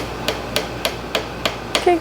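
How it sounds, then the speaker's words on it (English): Six sharp hammer blows at a steady rhythm driving wood wedges, close and loud, each a crisp knock on wood. "Biggest hammer possible."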